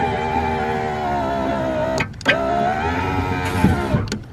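A steady electric motor whine hums inside a car as a window moves, with a couple of brief clunks and pauses before it runs again.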